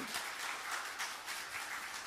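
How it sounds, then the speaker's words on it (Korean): A church congregation claps together during Sunday worship, a soft, steady patter of applause that stays even and fairly distant for the whole stretch, with no other voices standing out. "우리 하나님께 영광의 박수."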